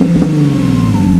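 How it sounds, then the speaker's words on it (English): Nissan 370Z engine running with a steady, loud low exhaust drone and a slight rise in pitch, close up and continuous with no talking. "let's get some exhaust notes and let's hear if it even sounds good."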